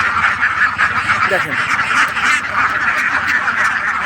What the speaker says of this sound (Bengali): এখানে আপনার 3000+ হাঁস আছে